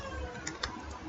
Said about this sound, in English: because I'm typing in Word